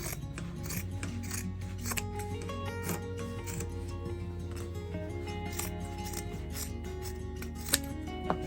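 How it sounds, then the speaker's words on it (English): Scissors snip steadily around the sewn seam of a fabric Christmas stocking, giving a quiet, repeated crisp cutting and rasping rhythm close up with no talk. "So I'm just gonna cut around where we sewed."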